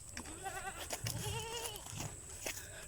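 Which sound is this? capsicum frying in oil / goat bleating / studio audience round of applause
goat bleating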